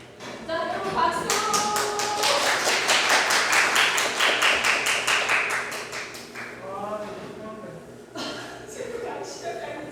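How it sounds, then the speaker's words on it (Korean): Audience clapping breaks out at a Korean anniversary lecture event on health and environment, a dense, sustained burst of many hands for several seconds that thins out, with talk from the host over and after it. "자, 여러분 박수!"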